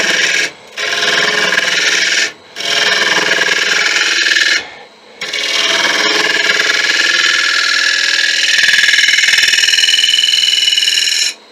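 Negative rake scraper shaving a spinning wooden ring on a lathe, producing a steady bright rasping scrape that pauses briefly a few times as the tool lifts off.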